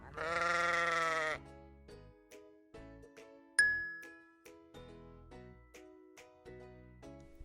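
A sheep lets out one loud, drawn-out bleat at the start, followed by soft tinkling chimes and light plucked musical notes in a children's phonics lesson.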